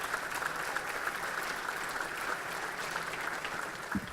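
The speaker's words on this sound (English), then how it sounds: "Folks, please give a round of applause to Congressman Ted Deutsch" A room of gala guests at the 2018 Equality Florida Broward Gala applauds Congressman Ted Deutch, a steady, fairly distant wash of clapping that holds evenly for about four seconds with no talking.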